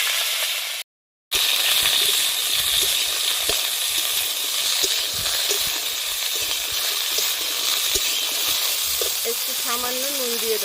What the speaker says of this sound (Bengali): এবার কপিগুলো জল সরিয়ে নিয়েছি, এবার আমি ভেজে নেব।